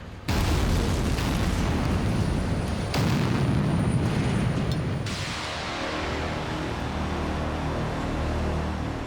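Rock blasting deep inside an Alpine tunnel dug by drilling and blasting, heard as a sustained heavy roar of explosion and rumble that surges again around three seconds and slowly settles into a lower, rolling reverberation.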